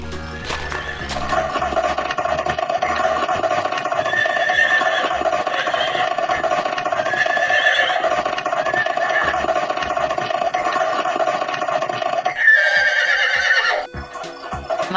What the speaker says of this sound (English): My horse Max is sick.